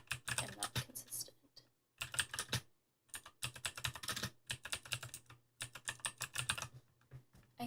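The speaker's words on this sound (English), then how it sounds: "I hope the keyboard clacking is nice ASMR and not annoying." Rapid clacking keystrokes on a computer keyboard come in steady bursts broken by short pauses, close and crisp, with no voice over them.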